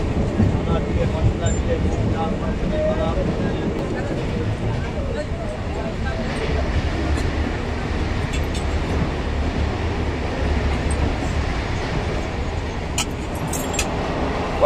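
An old, crowded train in India with no air conditioning, its steady rumbling rattle continuous and loud throughout, the car noise dense and unbroken.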